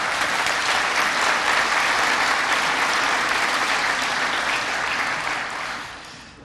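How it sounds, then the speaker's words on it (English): Sustained audience applause at a school ribbon cutting ceremony, a dense wash of clapping from a sizable crowd that holds steady and then fades out at the end. "You heard the applause we got"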